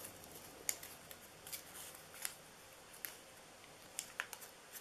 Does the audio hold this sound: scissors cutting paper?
yes